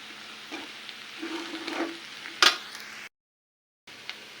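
Chili powder, coriander powder and cumin powder stirred into potatoes frying in a pan, a low sizzle with scraping stirs and a sharp utensil knock, then a brief drop to silence.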